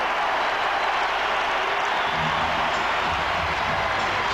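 Crowd in an NBA basketball arena during a Wizards home game roaring and cheering loudly and continuously during a timeout, a steady wash of noise with no clear breaks.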